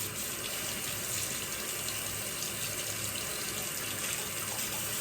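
Water runs steadily from a tap while shaving soap is being lathered, a constant close, loud rushing hiss with no break and no talking.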